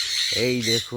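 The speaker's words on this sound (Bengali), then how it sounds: "পাখিগুলো খুব ডাকছে" Pet parrots squawk loudly in a cage surrounded by a gourd vine, two harsh raspy calls close by with a person speaking briefly over them.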